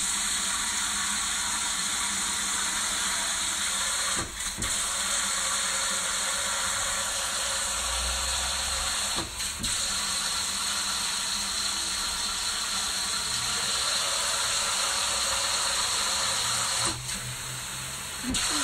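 Hot water runs steadily from a tap into a sink in a home, making a constant soft hiss with a few brief breaks, fairly quiet and close.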